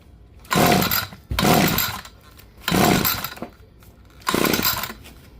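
An ECHO SRM-2620 string trimmer, found on the curb and set on choke, being pull-started. Four loud rasping recoil pulls sound close, each lasting under a second with short pauses between, and the engine never catches.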